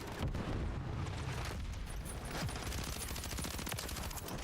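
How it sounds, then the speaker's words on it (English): A stun grenade blast in the online shooter Call of Duty: Warzone on Rebirth Island, a loud, dense wash of booming noise and rapid gunfire crackle sustained throughout, with no talking. "Stun grenade out!"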